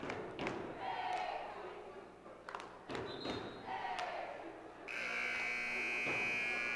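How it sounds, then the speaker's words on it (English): At a high school basketball game in a gym, thuds and scattered voices give way to a loud, sustained electronic buzzer that sounds steadily through the final couple of seconds. "the sound of the buzzer means there will be more basketball to be played"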